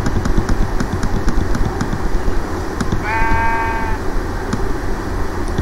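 A single sheep bleat from the video game Minecraft, a short wavering cry lasting about a second over a steady engine-like background hum.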